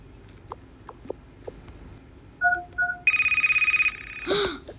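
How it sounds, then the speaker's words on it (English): Phones ringing with an alert in a Toca Boca role-play game, faint ticks first, then short electronic tones and a steady pulsing ring, ending in a brief burst. "Why did everyone's phone start ringing?"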